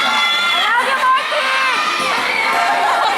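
A live crowd of fans at an X Factor Philippines show shouts and cheers loudly, high excited voices screaming continuously throughout.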